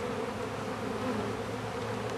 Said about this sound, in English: you can see there's just not a lot of bees left in it